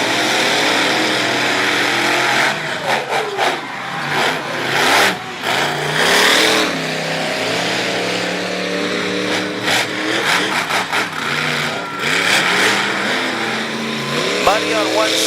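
Monster trucks Overkill Evolution and Iron Warrior racing in a championship final, engines roaring and revving in repeated loud surges, with announcer commentary running over the engine noise.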